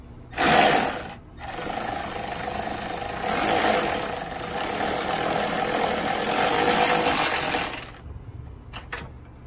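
A Milwaukee power tool running to loosen the strut nut on an 8th-generation Honda Civic, a loud continuous whirring for about seven seconds before stopping, followed by a couple of faint clicks.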